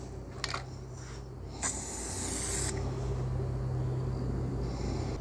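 Aerosol adhesive sprayed onto a foam seal for a 1968 Charger heater box, a short hissing burst of about a second after a few small clicks, close by, then a low steady hum.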